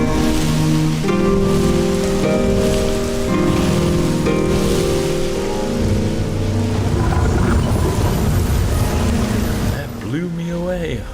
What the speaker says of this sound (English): Ah, the rain starts.